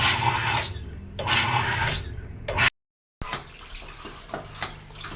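Water gushes out of a waterlogged bladder pressure tank during maintenance, loud hissing bursts broken by short pauses and a complete dropout, then rougher splashing spurts.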